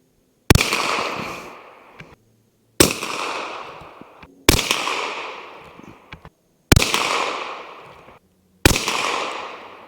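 A Savage B22 rifle firing Winchester .22 target and small-game rounds outdoors at a range, five sharp reports spaced about two seconds apart, each loud and close with a decaying echo tail and nothing else between them.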